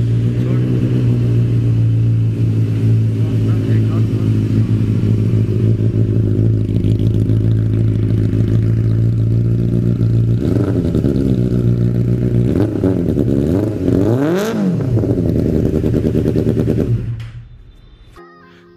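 A Benelli TNT 600i motorcycle idles loudly with a deep, steady exhaust burble, then is blipped in several sharp revs that climb and fall before the engine cuts off near the end.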